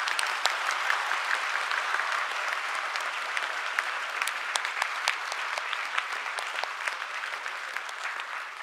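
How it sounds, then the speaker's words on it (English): Sustained, dense applause from a large audience at a medical sciences university convocation in Bhutan, steady and fairly loud throughout with no pause. "a big round of applause again to RTC"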